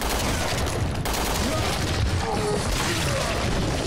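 Sustained rapid gunfire rattles on without pause in the video game Resident Evil: Revelations 2, a loud, dense fusillade of shots with booming low end filling the whole stretch.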